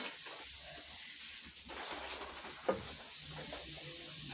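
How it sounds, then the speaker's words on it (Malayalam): Onions and green chillies sauté in a pan, giving a steady low sizzle with soft stirring scrapes and one sharp clack from the utensil partway through, without any talk. "സബോളയും പച്ചമുളകും വഴറ്റിക്കൊണ്ടിരിക്കുകയാണ്"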